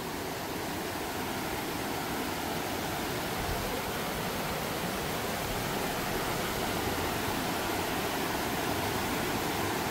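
Bhandare river in flood, a steady, loud roar of rushing water that fills the whole stretch without a pause or any voices.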